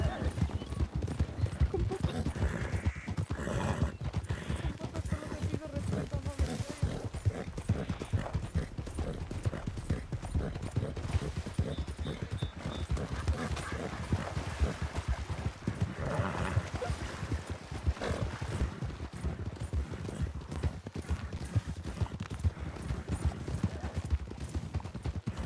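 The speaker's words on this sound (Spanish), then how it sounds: "Porque está siguiendo un caballo." Horse hooves clip-clop steadily in the RedM roleplay game set in 1920, a continuous rhythmic trot under in-game voices and ambient noise.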